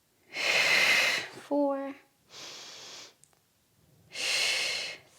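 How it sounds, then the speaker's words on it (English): Loud, close breaths during a Pilates workout: a long exhale, a softer second breath, then another strong exhale, with a voice counting briefly between them. "Inhale and exhale."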